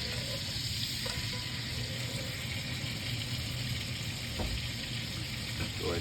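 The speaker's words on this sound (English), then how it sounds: "I'm just taking full quarters. Just going to sear them around. Skillet nice and hot." Raccoon quarters sear in a hot buttered skillet with a steady, close, crackling sizzle of frying meat, joined by a few faint clinks and scrapes.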